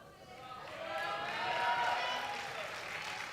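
Crowd at a junior powerlifting world championship cheering and applauding for a British lifter, a broad wash of voices and clapping that swells to a peak mid-clip and eases slightly, loud and sustained.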